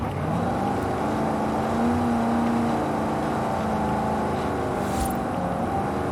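Big, heavy van with a large engine revving in the racing game Forza Horizon 5, a loud continuous engine drone whose pitch rises and falls steadily throughout, close and alone with no talk over it.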